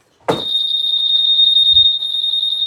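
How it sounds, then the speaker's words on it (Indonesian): An aftermarket keyless alarm on a Honda Beat FI motorcycle switches on with a soft click, then gives a steady, piercing high-pitched beep tone that holds unbroken, close and loud. "Menghidupkan juga biasanya saya menghidupkan alarmnya ya teman-teman. Nah, jadi alarm seperti ini."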